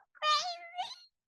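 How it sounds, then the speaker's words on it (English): A short, squeaky, high-pitched chipmunk-style voice effect from a Rodecaster Pro 2, one quick warbling utterance lasting about a second, close and fairly quiet. "if you want to kind of sound like a chipmunk"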